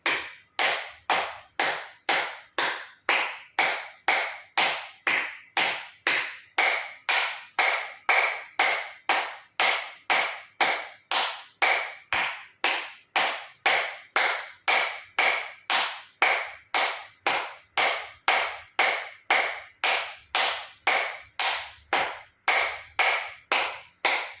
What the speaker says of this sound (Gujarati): એક્યુપ્રેશર તાળી પૂરેપૂરા આંગળા હથેળી પૂરેપૂરું ટચ થાય રીતે 50 વખત તાળી પાડીશું